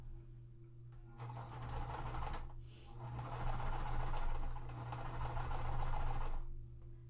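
A sewing machine stitches quilt fabric pieces in a steady fast whir lasting several seconds, with one brief pause midway, close by over a faint background hum.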